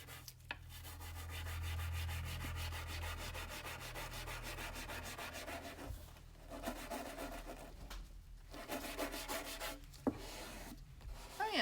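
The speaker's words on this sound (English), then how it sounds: "And just scrape a little bit." Toothbrush scraping dried egg tempera paint, a quiet close rubbing rasp in long continuous strokes broken by brief pauses.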